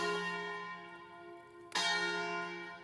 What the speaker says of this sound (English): I think this is the 7:30 bell.